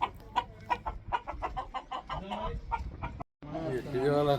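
Chickens cluck and squawk in a coop at feeding time, a steady run of short calls, with a voice speaking alongside near the end.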